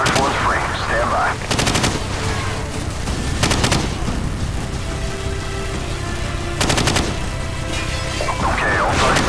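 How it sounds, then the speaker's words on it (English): Heavy gunfire in Call of Duty 4: Modern Warfare, loud sustained rattling bursts of automatic weapons with sharper crashing volleys at intervals, dense and continuous battle noise with no pauses. "we are taking heavy fire from a fortified position on the fifth floor"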